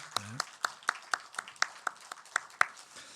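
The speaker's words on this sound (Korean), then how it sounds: "우리 크게 축복의 박수 하십시다." A church congregation claps together during a Sunday worship service, giving a steady, evenly spaced beat of sharp claps about four per second that ends after roughly a dozen strokes.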